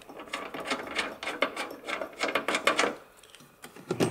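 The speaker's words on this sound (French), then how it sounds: "la clé à pipe est assez pratique" A socket wrench tightening a reused nut on a hood strut of an Opel Mokka, rapid ratcheting clicks in close bursts with a short pause near the end.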